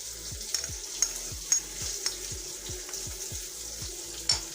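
Mustard spice paste of ground coriander and cumin cooking in a pan for mustard koi fish, giving a steady soft sizzle under a run of regular low scraping strokes from stirring, close by with no talk.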